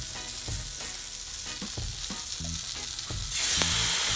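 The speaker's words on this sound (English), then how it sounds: "Add the tilapia now." Tilapia fries in butter in a skillet with a constant close sizzle and occasional knocks, swelling into a louder, hissier burst near the end.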